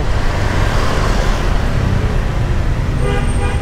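Jammed road traffic near Terminal Mardika in Ambon city: a dense, loud wash of engines and road noise with car horns tooting, including a clear honk near the end.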